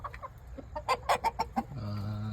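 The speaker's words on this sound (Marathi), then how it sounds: "कसा आहे कोंबडा" A desi village rooster in a small backyard coop clucks in a quick run of sharp, close bursts, then settles into a steadier drawn-out call at the end.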